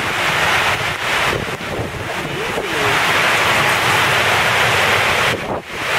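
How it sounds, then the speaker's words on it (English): Ocean waves and heavy wind during Hurricane Paul at Cabo, a loud continuous roar with wind buffeting the microphone throughout. "That's the ocean out there"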